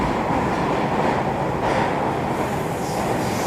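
A Swiss train running along its tracks beside a clear river, heard as a steady, loud, close rumble and rolling rush that holds without pause.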